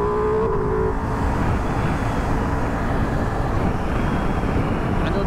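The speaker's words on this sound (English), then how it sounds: "Even pushing hard on the gas, the bike keeps stable, everything's fine." A 2023 Ducati Multistrada V4 Rally motorcycle rides hard along a road, with a loud, continuous low engine drone and rushing wind noise at close range throughout.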